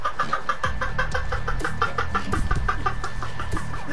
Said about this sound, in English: He brought the chicken!